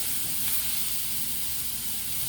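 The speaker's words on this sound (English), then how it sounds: "Cook your vegetables with the bacon for a few minutes." Vegetables cooking with bacon in a pot give off a steady, even sizzle and hiss throughout, close and continuous with no talking.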